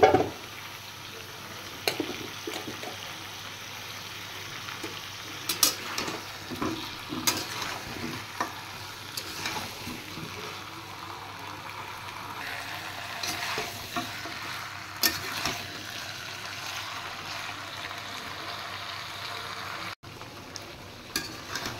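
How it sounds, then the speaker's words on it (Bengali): Mutton and raw cut potatoes fry together in a pan, giving a steady close sizzle broken by repeated scraping stir strokes, with no voices. "মটন ভালো করে এবার কষিয়ে নেব"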